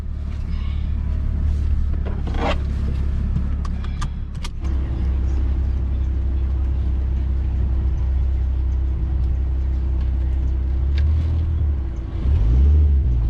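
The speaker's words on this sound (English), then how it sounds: "It's a little bit of a deeper exhaust sound." A deep, steady car exhaust rumble drones throughout, with a low engine tone shifting slightly as the vehicle drives; no voices.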